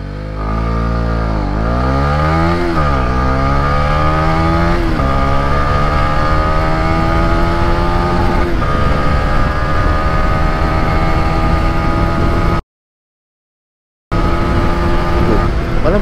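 A Honda CB150R Exmotion 150 cc motorcycle engine hums steadily while being ridden, its pitch rising and falling through gear changes, loud and continuous with a brief dropout near the end.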